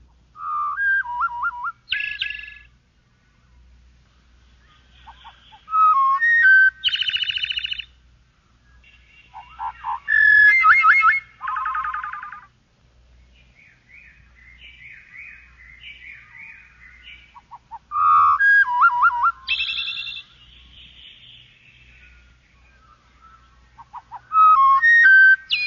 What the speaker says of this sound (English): To show the marvelous improvisations of the thrush, the endless variety of his song, let's hear it at half speed